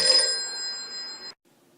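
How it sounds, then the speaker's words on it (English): A telephone-style ringtone on an in-game phone rings loud and close with steady bright tones, then cuts off abruptly, leaving near silence. "sounds like we're getting a call on the Choco phone"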